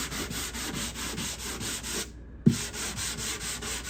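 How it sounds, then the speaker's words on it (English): Steady hand sanding across a cedar guitar top, a rhythmic back-and-forth rubbing with a brief pause and a small knock midway, close and without talk. "as I'm sanding this guitar"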